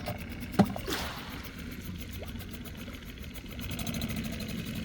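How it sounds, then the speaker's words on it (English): A Suzuki outboard motor drives a small Livingston boat, a steady mid-pitched engine drone with a faint knocking pulse, heard close with water noise and one sharp knock near the start. "At least that motor runs good."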